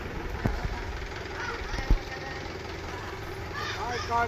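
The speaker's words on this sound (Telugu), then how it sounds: "ట్రాక్టర్ సౌండ్ వస్తుందేమో, డిస్టర్బెన్స్ ఉందో లేదో." A low, steady tractor engine drone runs throughout with a couple of sharp knocks, while a voice speaks faintly near the end, in a village.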